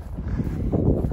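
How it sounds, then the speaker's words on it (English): Wind buffets a microphone outdoors on a small farm, making a steady, loud, low rumbling roar with no voices. "It is windy, so I apologize for the wind."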